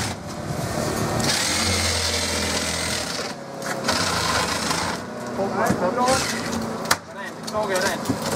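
A loud, steady mechanical saw cuts through a car windscreen, grinding continuously for several seconds, then breaking into choppier cutting bursts with voices talking over it nearby.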